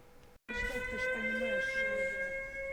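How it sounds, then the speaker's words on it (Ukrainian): An air raid alert siren sounds inside a store in a city, a steady layered tone that starts abruptly after a brief silence and holds loud and unbroken. "Шановні покупці, в місті оголошено повітряну тривогу"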